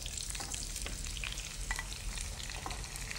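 Onion and peppers fry in a pan with a steady, close sizzle and occasional stirring scrapes, alone without talk.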